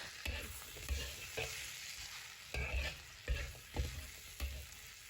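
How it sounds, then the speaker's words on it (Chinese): Potato slices being turned with a spatula in a hot wok, a steady sizzle broken by repeated rhythmic scrapes and tosses, close and clear with no talking. "再给它翻炒1-2分钟，把土豆片炒至入味"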